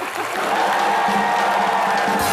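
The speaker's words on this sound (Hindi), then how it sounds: "एक बार प्रियंका और उमंग कुमार के लिए जोरदार तालियां।" A studio audience at a comedy show cheers and applauds loudly and continuously, heard close up as a dense roar of clapping and voices.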